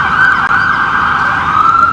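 A police siren wails steadily and loudly on a London street, its tone holding close and strong throughout with no voices over it.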